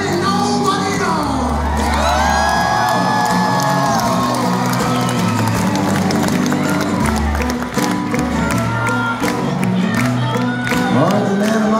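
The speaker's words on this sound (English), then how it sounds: "the big round of applause for you guys" A concert crowd at a show in Sydney, Australia claps, cheers and whoops loudly in a sustained burst, with scattered shouts rising above the roar and a voice heard briefly under it.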